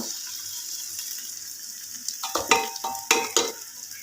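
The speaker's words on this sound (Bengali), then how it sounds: "এটাকে কষিয়ে নিলাম" Goat meat sautéing in a pan, a soft continuous sizzle that gives way to several sharp scraping, stirring strokes of the spatula in irregular bursts, close by with no voices.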